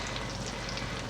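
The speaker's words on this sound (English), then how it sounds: "there goes the sizzle" French toast frying in a pan, a steady close sizzle with faint crackling throughout, no other sounds on top.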